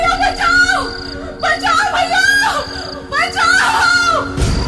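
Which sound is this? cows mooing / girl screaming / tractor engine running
girl screaming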